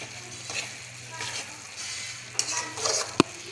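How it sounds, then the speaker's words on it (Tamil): A spoon gently stirs dried fish kootu in a cooking pot, soft scraping strokes over a low simmering hiss, ending with a couple of sharp clinks of metal against the pot. "லேசாக வந்து கரட்டி மட்டும் விடுவோம் கரட்டி வச்சுட்டு மூடி வச்சிடலாம்"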